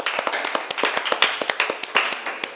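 Applause from a studio audience on a Hindi-language TV quiz show, a dense run of sharp, close hand claps with an uneven rhythm over about two and a half seconds, with no talk.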